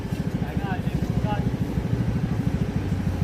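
A motorcycle engine runs with a fast, steady low putter that pulses evenly throughout, close by, with a couple of faint whistling sounds above it.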